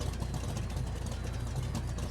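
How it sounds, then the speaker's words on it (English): Car engine in the video game GTA Online, a dense, steady, loud rumble with a gritty low-end throb held throughout, with no talking. "this thing has an absolutely fantastic engine sound."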